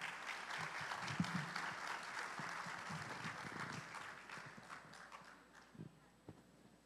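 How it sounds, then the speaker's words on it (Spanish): An audience at a wastewater treatment forum run by the Ministry of Health applauds a panel speaker, with dense clapping that thins out and fades toward the end. "Los recibimos con un fuerte aplauso."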